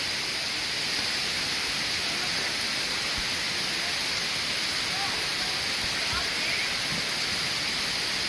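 Amicalola Falls waterfall heard up close in misty spray, a steady, loud broadband rush of falling water that fills the whole stretch without pause.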